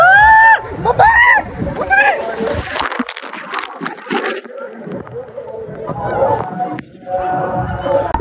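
Water splashing and rushing down a slide at a large water park in Sultanganj, Bihar, with heavy flow and sloshing, loud and continuous beneath excited voices and shouts throughout.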